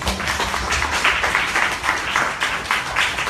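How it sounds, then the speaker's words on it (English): An audience applauds the speakers at the close of a software development talk, a brief burst of dense, fairly loud clapping that holds steady throughout. "Can we give them a round of applause"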